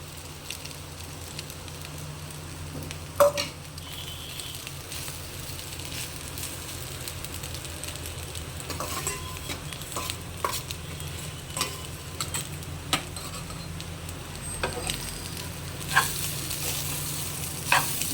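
Rice being stirred into a hot pan with brinjal, egg and vangi masala, giving a steady low sizzle of frying broken by intermittent scrapes and clacks of the spatula, heard up close with no talking.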